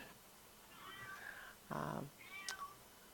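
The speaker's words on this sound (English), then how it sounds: "I'm hearing a kitty in the background" A pet cat meows faintly in the background of a quiet room, giving a few drawn-out, wavering cries with one louder, harsher yowl in the middle.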